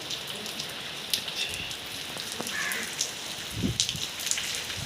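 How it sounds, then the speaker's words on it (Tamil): Steady rain falls in an outdoor painting work area, a dense, even hiss of drops on surfaces with scattered louder splats and patters, no voices. "மறுபடியும் மழை வந்து விட்டது."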